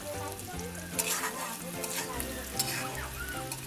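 Chopped onion fries in a pan for shrimp bhuna, a steady close sizzle with occasional scrapes and clinks as it is stirred, plus a faint background hum; nobody speaks.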